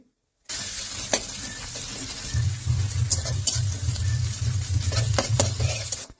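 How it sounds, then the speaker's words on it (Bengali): Chopped onions frying in oil with black cumin, a steady close sizzle with scraping stirs and light utensil clinks against the pan, no talk. "পেঁয়াজটাকে প্রথমে হালকা করে ভেজে নিতে হবে"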